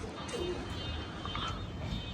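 Pigeons from a keeper's flock on a cold winter morning coo softly and faintly over a steady, noisy outdoor background, with no clear talk.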